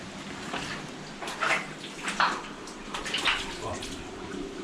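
Water running and splashing over rocks inside a Yorkshire Dales cave, a continuous hollow rush with brief louder surges, heard from a short distance with faint echo.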